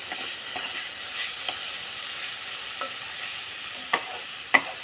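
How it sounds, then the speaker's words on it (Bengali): Dry vegetable curry sizzling in a pan while being stirred, a soft steady hiss with a few scattered scraping clicks of the spoon, fairly quiet and alone. "দিয়ে একটু নেড়ে চেড়ে আমি আরবার একটু ঢাকা দিয়ে দেবো।"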